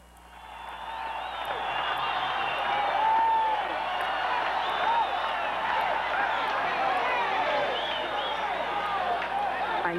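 Cheering and applause from an arena crowd at a women's pro boxing title fight, a sustained roar that swells in the first seconds and stays dense and loud.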